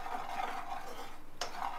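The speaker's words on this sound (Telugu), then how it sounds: "ఇప్పుడు అది ఎంతసేపు కలపాలి? మిక్స్ అయ్యేదా కలపాలి." Melted butter for a white sauce pasta is stirred in a pan, giving a steady scraping swish throughout with a brief sharper clink of the utensil near the end.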